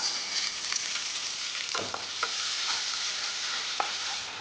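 Onions frying in a pan for egg biryani, a continuous hiss of sizzling oil with a few spatula scrapes and stirs, heard alone at moderate volume.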